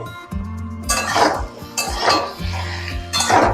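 A spatula scrapes and clatters in a pan of frying pumpkin and potato in three loud bursts, over a low steady hum with a faint sizzle.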